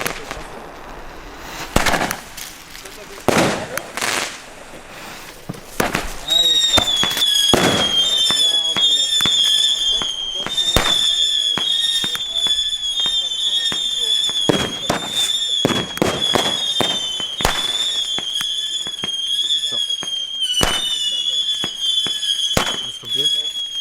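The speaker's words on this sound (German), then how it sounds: "Jetzt kommen die D-Böller." D-class firecrackers (D-Böller) set off on a street at New Year's Eve burst as sharp, loud bangs in an irregular series, some close together. A high whistling tone runs beneath the blasts, and voices are heard between them.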